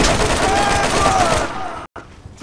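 Automatic turret gunfire in the video game Borderlands, a dense, loud rattle of shots filling the first second and a half before cutting out, followed by quieter game noise.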